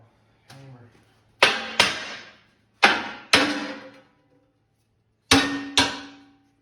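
Hammer blows strike metal in pairs while forming a homemade car front bumper, sharp clanging hits with ringing decay, separated by brief pauses, close and loud.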